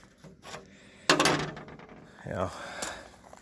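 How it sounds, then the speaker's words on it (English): A cold chisel pries fasteners off a wooden aircraft body tub, giving a sharp scraping crack followed by short wooden rubbing and creaking sounds, close up and fairly quiet. "So I take the cold chisel, pop it in."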